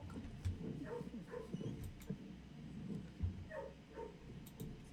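Soft dog vocalizations in the video game Blue Prince as the dog is petted, a few short yips and whimpers over quiet background game sound.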